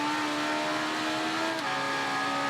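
Early-1990s race motorcycle engine in the video game Ride 3, a steady high-revving whine with layered harmonics that shifts pitch briefly mid-clip, loud and continuous with no talk.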